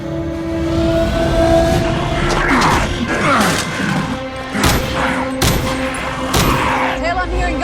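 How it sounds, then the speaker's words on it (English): Bursts of gunfire with sharp cracks and booms ring out among mechanical clatter and a sustained hum in a Stargate Atlantis sci-fi battle scene, loud and dense, with voices occasionally audible. "I'm hearing gunfire"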